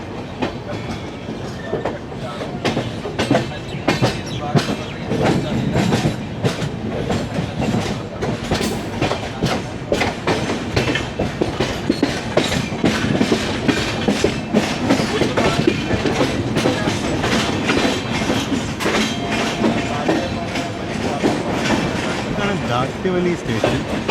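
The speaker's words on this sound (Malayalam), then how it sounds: "കാരണം ട്രെയിൻ ജസ്റ്റ് മെയിൻ ലൈനിലോട്ട് കയറുന്നു." The Gandhidham–Tirunelveli Humsafar Express rolls onto the main line, heard from on board as a continuous loud rumble with rapid, rhythmic clickety-clack of wheels over rail joints throughout.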